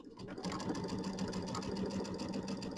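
A sewing machine stitches a quarter-inch seam on a mini quilt piece, giving a steady rapid close mechanical whir that runs throughout, with no talking.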